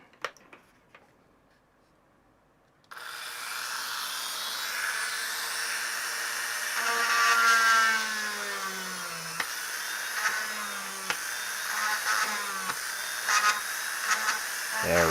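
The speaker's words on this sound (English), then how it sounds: "Let's go back to the grinder." Power grinder working on parts during restoration of a badly dirty Commodore 64C, starting abruptly after a few seconds of near silence, then a steady loud whine with rising and falling pitch as the load changes, with brief clicks.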